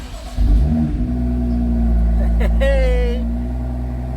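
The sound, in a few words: 2018 BMW M2 F87 engine starting and running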